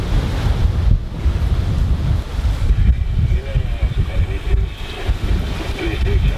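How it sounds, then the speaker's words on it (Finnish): Heavy wind buffets the microphone on a homemade raft at sea between Estonia and Finland, with waves surging and splashing loudly around it in continuous roaring gusts. "Ja aika hurjat tulee nää aallot."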